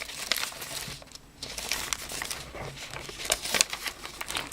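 Tracing paper in a mixed media altered junk journal being handled and crinkled close up, a run of dry crackling rustles and sharp crinkles with brief pauses, no voices.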